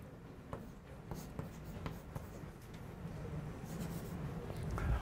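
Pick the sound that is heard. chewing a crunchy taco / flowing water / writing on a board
writing on a board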